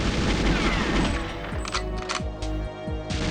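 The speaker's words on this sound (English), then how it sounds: "Oh, there's turrets up here." Turret gunfire in the GoldenEye 64 video game, dense rapid bursts of shots and booms under a constant loud game background, with no talk.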